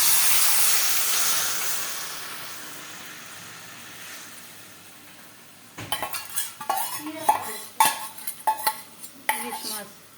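Hilsa fish with cucumber going into a covered wok; a steady sizzling hiss fades at first, then close metallic clatters and scrapes of a lid and utensils sound in irregular bursts.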